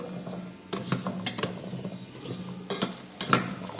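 Vegetables, including taro, being stirred in a pan during oil-free cooking, with a few distinct scraping strokes against the pan and a soft sizzle underneath; quiet and close, with no talking.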